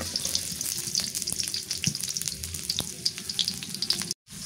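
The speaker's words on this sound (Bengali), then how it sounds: "পেঁয়াজ দিয়ে দিলাম," Onions fry in hot oil with a close, continuous crackling sizzle and scattered pops, plus a few soft stirring knocks, before the sound cuts out briefly near the end.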